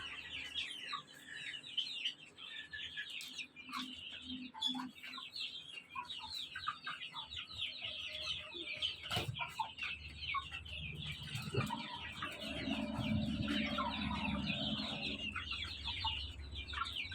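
Young native chickens about a month old cluck and chirp steadily in a shed with a raised platform floor and cement roofing, many overlapping calls near and far with no speech.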